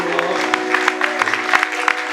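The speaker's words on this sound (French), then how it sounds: "Est-ce que tu peux offrir une forte offrande d'acclamation au Seigneur?" A church congregation claps and cheers in acclamation during a French-language revival service: steady, loud clapping with sharper individual claps over a sustained tone, filling the short clip without clear speech.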